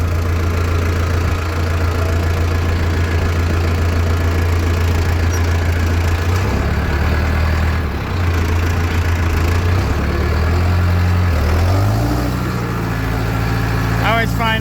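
A farm tractor engine running nearby, a loud steady idling drone with a deep low hum that shifts pitch slightly as the revs change, with a voice talking over it.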